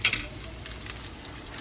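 Chicken sizzling as it fries in a pan for tostadas, a steady close crackle with a few brighter spits at the start.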